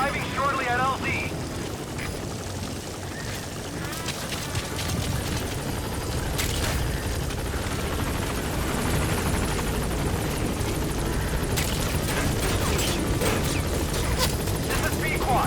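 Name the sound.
support helicopter arriving in Metal Gear Solid V video game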